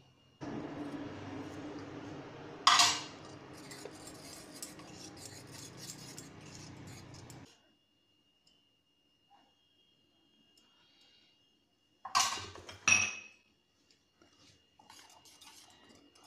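A spoon mixing a rice flour and semolina batter in a bowl, soft wet stirring with sharp clinks against the bowl, stopping for a long silence before a brief second burst of clinking.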